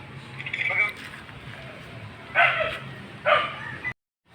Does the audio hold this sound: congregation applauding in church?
no